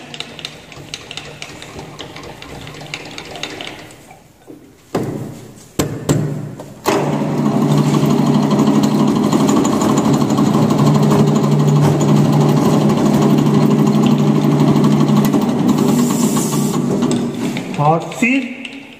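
A lathe runs steadily while a centre drill bores a centre hole in a workpiece held in the chuck, a loud continuous machine hum with a few sharp knocks before it settles into a steady drone.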